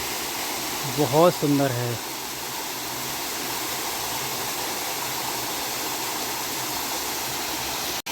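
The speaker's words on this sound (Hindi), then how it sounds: "इतना सुंदर झरना देखने मिल गया हमको" A waterfall on the Narmada near Jabalpur roars as a steady, dense rush of falling water, constant and fairly loud, with someone speaking briefly over it near the start.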